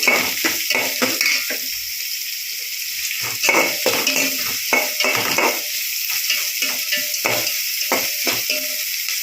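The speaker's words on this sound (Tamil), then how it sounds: "வெங்காயம் வந்துட்டு கொஞ்சம் வதங்கி வரட்டும்" Two onions sauté in a pan for potato and chickpea kurma, a continuous sizzle punctuated by frequent rhythmic scrapes and clinks of a spatula against the metal pan, close and loud.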